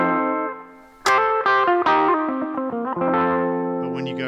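Blues riff on an electric guitar with distortion and effects, a loud syncopated run of close, overdriven notes and bends that sustains into a ringing finish.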